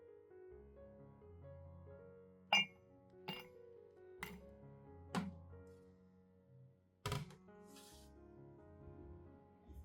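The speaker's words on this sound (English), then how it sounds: "place 3 to 5 ice cubes into a cup like this" Three to five ice cubes drop one at a time into a cup, each landing as a sharp, bright clink with a short rattle, spaced a second or so apart over soft background music.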